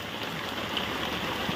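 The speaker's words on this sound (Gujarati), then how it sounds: "અત્યારે ઝરમર ધીમું થઈ ગયું" Light drizzling rain falling steadily outdoors at a village fair, a soft, even patter with no voices, close and continuous throughout.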